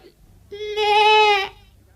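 A goat gives a single loud, drawn-out bleat lasting about a second, close by and heard on its own against a quiet background.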